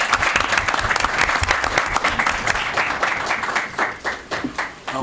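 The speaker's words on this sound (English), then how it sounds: "let's have one more round of applause for all of our" A school committee meeting audience applauds staff and students, dense steady clapping that fills the room and slowly thins toward the end.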